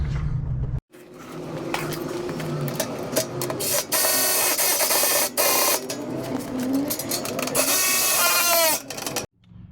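Power tool whirring and buzzing in bursts with brief pauses while two bolts are driven through an aftermarket front bumper into the skid plate of a Ford Bronco, loud and close with no talk.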